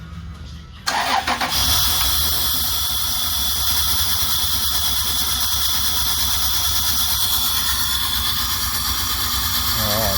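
A Toyota Prado 3.4L engine with a major ignition misfire cranks with a loud, continuous starter whir that begins abruptly after a brief quiet moment, never quite catching and carrying on steadily to the end.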